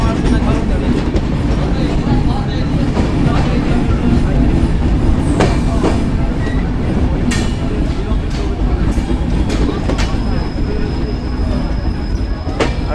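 Sagardari Express pulls into Alamdanga railway station, a steady loud rumble of rolling railcars with wheel clatter and brief metallic squeals, while a voice speaks over the din.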